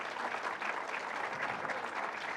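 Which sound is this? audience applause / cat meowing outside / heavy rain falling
audience applause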